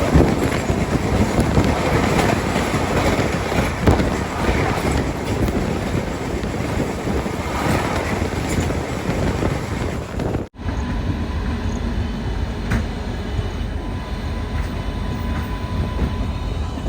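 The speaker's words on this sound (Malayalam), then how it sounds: "ട്രെയിൻ ഇതാ ബിലാസ്പൂർ റെയിൽവേ സ്റ്റേഷനിലേക്ക് എത്തിക്കൊണ്ടിരിക്കുകയാണ്" Chhattisgarh Express rolling into Bilaspur railway station, a loud steady rumble of carriages with wind buffeting, cutting abruptly to a quieter, smoother run of the train.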